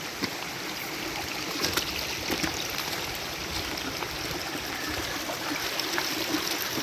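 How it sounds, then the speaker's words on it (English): North Sylamore Creek, flooded over its trail after heavy rain, rushes and burbles continuously nearby, a steady broadband flow with small splashes and no voices. "The trail is a creek right now."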